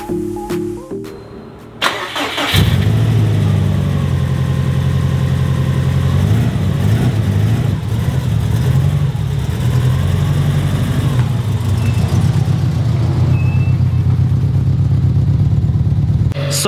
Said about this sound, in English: I'll probably do a cold idle and a hot idle once it's at operating temperature, just so Chris can see both parameters